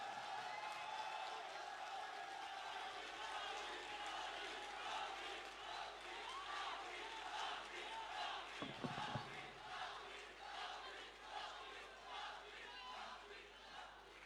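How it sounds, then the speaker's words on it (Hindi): A large audience at a mushaira at the Sargodha Arts Council claps and cheers to welcome the poet Tehzeeb Hafi: a dense, steady roar of applause and crowd noise that holds for the whole stretch. "भरपूर तालियों से इस्तकबाल करें"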